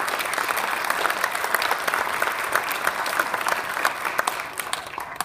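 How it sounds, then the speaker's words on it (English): Audience at a school athletic hall of fame induction ceremony giving a round of applause, steady continuous clapping from a full hall that begins to thin near the end. "So give them a big round of applause."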